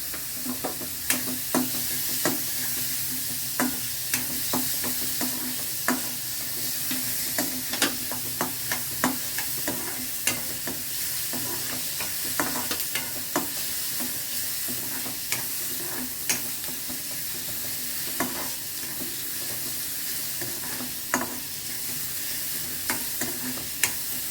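Chopped onion with a pinch of salt fries in a pan, giving a steady sizzle broken by frequent sharp scraping and tapping strokes from a stirring spoon, close and without speech.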